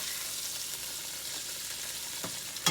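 Steaks browning in a frying pan before being finished in the oven, giving a steady soft sizzle with a brief louder crackle near the end.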